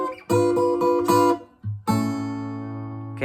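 Acoustic guitar in a blues song plays a chord change: three quick strummed chords, a short gap with a low bass note, then a final chord left ringing, close and solo.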